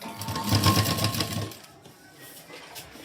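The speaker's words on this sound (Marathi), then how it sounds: "इथे मी आता शिलाई देऊन घेणार आहे" A sewing machine stitches piping with a fast, loud, close motor whir for about a second and a half, then stops, leaving a quiet room.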